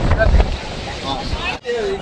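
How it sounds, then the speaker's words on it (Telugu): Wind gusts buffet the microphone outdoors during a motorcycle road trip near a temple, a loud rumbling rush that fades briefly before returning, while a person speaks over it. "గాలి వస్తుంది."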